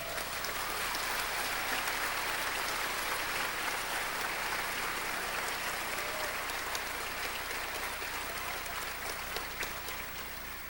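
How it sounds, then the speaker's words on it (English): Steady, sustained audience applause at a university luau evening, a dense wash of clapping holding at even strength from start to finish with no voices standing out. "Give them a round of applause."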